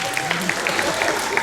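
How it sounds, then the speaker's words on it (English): Graduation ceremony audience applauding, a dense steady patter of many hands that runs the whole short moment with voices talking over it. "Could you all give them a round of applause now?"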